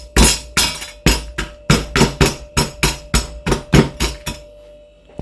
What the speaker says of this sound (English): so use the hammer to break it up.